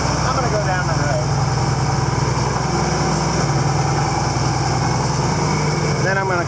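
A tractor engine runs steadily as it drives down the road, a continuous loud mechanical drone with a rapid low putter, with faint voices underneath.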